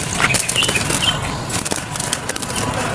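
A pet bird released from its cage flaps its wings in a close, busy flurry of soft feathery beats that runs for about three seconds.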